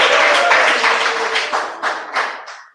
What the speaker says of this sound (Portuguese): Vamos receber o Diácono Antônio com palmas